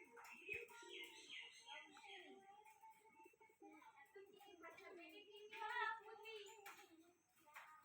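Pigeons kept in a loft of about fourteen or fifteen birds call and coo softly, with chirpy bird sounds mixed in, faint and somewhat muffled throughout.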